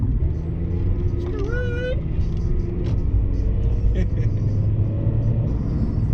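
An Indigo Blue Dodge Charger Hellcat being driven on a cold day, heard from inside as a loud steady low engine and road rumble throughout, with a person talking over it.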